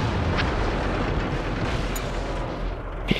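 Tank cannon fire booms within a World of Tanks battle, heard as a dense, rolling rumble of distant blasts that ends in a sharper thud, with no voices.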